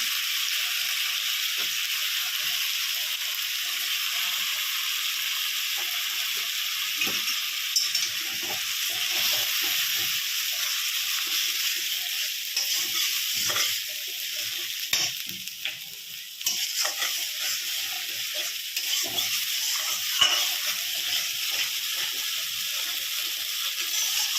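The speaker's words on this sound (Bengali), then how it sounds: "আমি এটাকে খুব ভালোভাবে 10 মিনিট কষিয়ে ফেলি।" Spiced chhana curry mixture with ginger, green chilli, tomato and turmeric sautéing in a pan, a continuous bright sizzle and hiss with scattered stirring scrapes, close and steady throughout.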